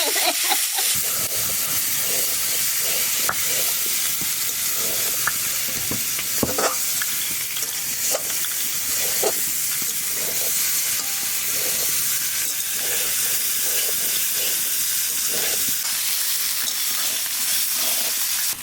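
Green chili and ginger paste frying in a hot pan, a loud, steady sizzle and hiss that runs without a break, with occasional stirring scrapes close by and no talking.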